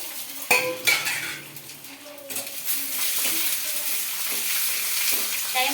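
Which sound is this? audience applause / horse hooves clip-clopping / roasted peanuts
roasted peanuts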